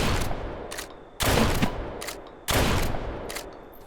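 Shotgun fire in the Deadside video game: two loud, close blasts with long rumbling tails, about a second apart, plus a few lighter shots in between, with no talk.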